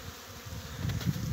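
Honey bees flying at an apiary in spring on a cleansing-flight day make a steady, close buzzing hum with a faint outdoor background.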